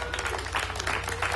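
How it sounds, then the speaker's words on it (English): Applause from a live concert crowd in a theater: dense, steady clapping across the whole short stretch, moderately loud, with no speech over it. "Give yourselves a round of applause, ladies and gentlemen."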